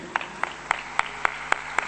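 Hand claps at a flamenco festival performance, sharp single claps landing in an even, regular beat about three to four per second, close and distinct.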